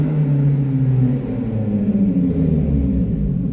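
A four-cylinder Lotus Elise engine rumbles loudly inside a garage tunnel, a low throbbing drone that holds steady then eases, echoing close with no voices.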